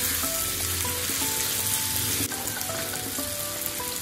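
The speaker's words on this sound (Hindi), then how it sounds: "अच्छे से इन सब मसालों को मिक्स करते हैं।" Spices and chopped tomatoes with green chili paste sizzle and fry in a pot for fish biryani, a steady close hiss with faint stirring scrapes and no talk.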